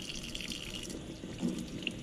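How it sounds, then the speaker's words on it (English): Cold water running from a tap into a sink, a steady close splashing rush with no talk for about two seconds. "So let's just go over here and just run a little cold water."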